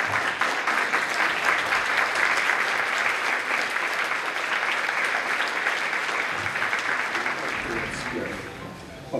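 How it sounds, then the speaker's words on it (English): A standing audience applauds continuously and steadily at an instructors' Chi Gong gathering, dense overlapping claps filling the room at an even level for the whole stretch, tapering slightly near the end. "could we actually all stand up and give a round of applause to Teresa"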